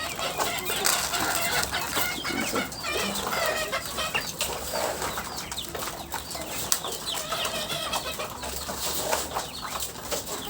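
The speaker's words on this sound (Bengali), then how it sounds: "এগুলো দেশি মুরগির বাচ্চা" Local desi chicken chicks and white layer hens cluck and chirp steadily at feeding time on a poultry farm, with a busy, close chorus of overlapping calls and occasional wing flaps throughout.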